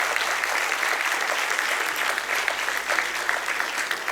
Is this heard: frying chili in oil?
no